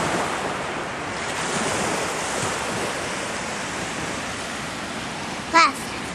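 Ocean surf rolls steadily onto the shore in a continuous broad wash, mixed with wind buffeting the microphone and a brief knock near the end.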